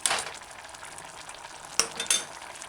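Chicken, mushroom and coconut stew with added white vinegar being stirred in a pot, with a faint steady sizzle and a few sharp spoon scrapes and clinks against the pan.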